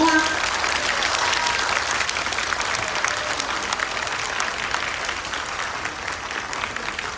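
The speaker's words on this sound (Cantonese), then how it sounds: "我哋不如先俾熱烈嘅掌聲歡迎佢哋好唔好啊" Steady, dense audience applause at an outdoor flower show performance, welcoming a children's wind orchestra from the Hong Kong Music Office, sustained and fairly loud throughout, slowly tapering toward the end.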